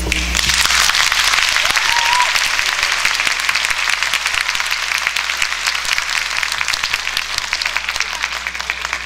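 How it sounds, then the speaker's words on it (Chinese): A church congregation applauds after a Christmas worship performance, a dense, sustained clapping that starts loud and slowly tapers across the hall. "让我们再次以热烈掌声，谢谢他们"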